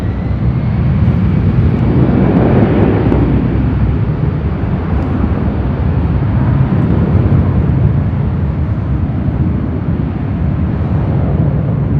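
Airplane roaring near Los Angeles International Airport, a loud continuous broadband rumble that swells and slowly fades as it passes close by.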